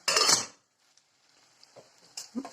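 A lid clatters down onto a frying pan of mushrooms, one sharp metallic clank followed by quiet, with a faint scrape or tap near the end.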